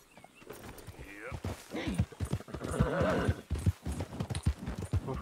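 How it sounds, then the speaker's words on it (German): Horse hooves in the video game Red Dead Redemption 2 clip-clop in a quick, uneven gait close by, with a whinny in the middle of the steps. "Jetzt steig doch auf das Pferd"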